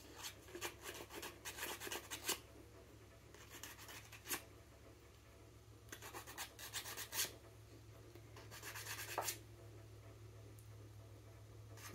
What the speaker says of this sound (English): This is very coarse sandpaper.